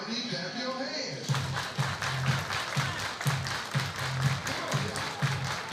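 Baseball crowd at a ballpark clapping in a rhythmic, synchronized pattern after an opening burst of cheering, with a commentator talking over the steady repeated claps.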